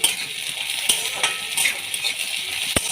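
Thin slices of ginger, whole garlic cloves and onion fry in a hot pan with a steady close sizzle, while a utensil stirs and scrapes with a few sharp metallic clicks.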